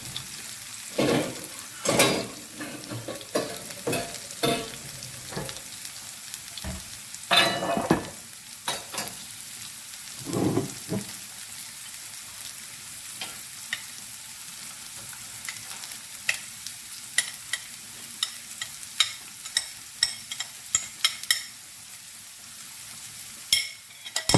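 Shrimp sizzle and fry in a hot pan, with steady crackling broken by louder bursts as they are stirred and a utensil scrapes and clinks against the pan, close and clear, with no talking.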